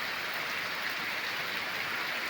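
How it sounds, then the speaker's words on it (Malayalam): Heavy summer rain pours steadily in a dense, even hiss with no letup, loud and close, and no one talks over it. "നല്ല ഒന്നാതിരി മഴ."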